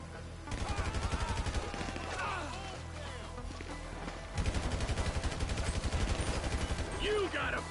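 Rapid bursts of gunfire in Grand Theft Auto 5, dense repeated shots in two long volleys separated by a brief lull, loud and close with game effects mixed in.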